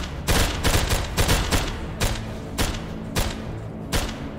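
Sharp gunshots in a tactical shooter game ring out as irregular single cracks and short bursts, loud and close, each with a booming low tail, spaced roughly half a second to a second apart.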